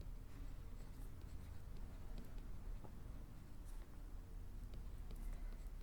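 A pen scratching steadily on paper while a statement is written down in a Class 10 maths lesson on real numbers: a continuous soft scribbling texture with faint clicks, close but quiet, with no voice.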